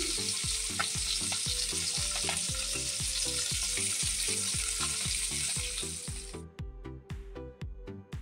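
Fish pieces deep-frying in hot oil, a dense steady sizzle close by that runs loud and continuous, then breaks into choppier crackling near the end; no talking.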